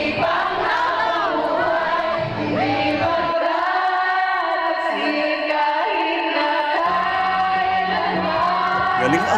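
A crowd cheers and shouts for the performer, a loud, continuous roar with whoops rising and falling, and a singing voice carries through it for the whole stretch.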